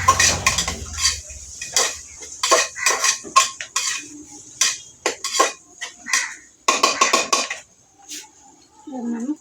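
A metal spoon stirs soya bean pulao in a pot, with repeated clinks and scrapes in uneven bursts up close, while a person talks intermittently.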